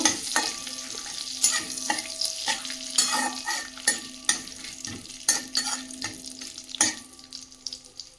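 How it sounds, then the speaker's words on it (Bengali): Spices and bay leaves fry in a pan, a steady sizzle broken by repeated scraping stirs of a spoon against the metal, each stroke sharp and close amid a low background hum. "দিয়ে দেব দুটো তেজপাতা মশলাটা ভালো করে ভেজে নেব"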